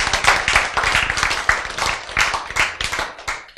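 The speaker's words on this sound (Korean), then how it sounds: "박수" A lecture audience applauds with dense, steady clapping from many hands. It stays loud and even for a few seconds, with no pause.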